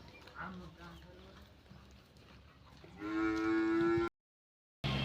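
A water buffalo gives a loud, low, drawn-out moo close by, following a stretch of quieter murmuring sounds, then cuts off abruptly.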